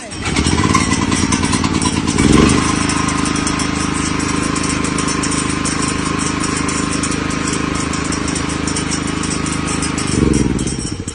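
A large 9-horsepower gasoline engine is hand-crank started, sputtering into life after a brief cranking burst, then runs steadily with a loud, even chugging putter.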